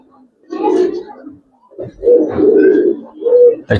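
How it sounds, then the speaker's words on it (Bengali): A male pigeon of an old red-necked breed coos at a released female, delivering several low, throaty rolling coos in close succession, near and clear, with brief pauses between phrases. "এটা ওর ডাকটা একটু দেখানোর জন্য একটা মাদি ছাড়া হয়েছে।"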